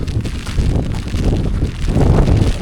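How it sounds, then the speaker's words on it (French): Strong stormy wind on a mountain trek on the Tongariro Northern Circuit, buffeting the microphone in loud continuous gusts with low rumbling roar and rustle throughout. "Oh les amis, c'est la tempête là"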